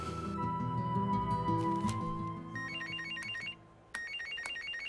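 A telephone plays a bright, melodic ringtone in repeating electronic phrases, breaking off briefly before the tune starts again. It is fairly quiet, with no one speaking.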